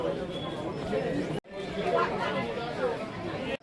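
A crowded railway station carries continuous murmuring chatter from many people, steady and moderately loud, with a brief dropout partway through.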